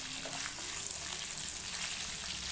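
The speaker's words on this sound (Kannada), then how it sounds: "ಚಕ್ಕೆ ಲವಂಗ ಏಲಕ್ಕಿ ಮತ್ತು ಸೋಂಪು ಕಾಳು ಕಾಳು ಮೆಣಸು ಇದನ್ನು ಸೇರಿಸ್ತಾ ಇದ್ದೀನಿ ಇದೊಂಚೂರು ಫ್ರೈ ಮಾಡ್ಕೊಳ್ಳೋಣ ನೋಡಿ" Whole cinnamon, cloves, cardamom, fennel seeds and peppercorns fry in hot oil for a South Indian chicken gravy, a steady, dense, close sizzle that hisses without a break.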